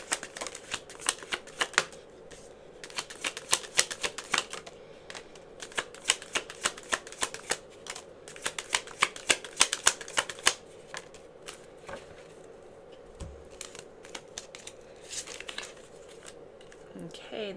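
Message cards for a pick-a-card love reading are shuffled and drawn, producing a steady run of crisp riffling and flicking bursts up close, with brief pauses between handfuls and no talking.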